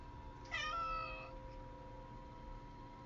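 A cat meows once in a single drawn-out, clear call near the microphone in an otherwise quiet indoor room with a faint steady hum.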